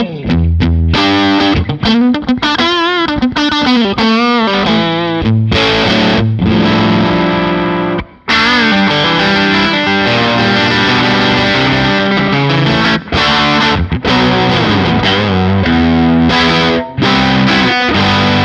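A loud overdriven electric guitar played through an Arc Effects Soothsayer overdrive pedal in low-gain mode plays chords and riffs with a washy, splashy spring reverb trailing each note, brief pauses between phrases, no voices.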